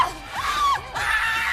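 Woman letting out a loud, sustained screams with wavering pitch in a scream test for a horror-hostess search competition, two shrill cries close up with little else around them.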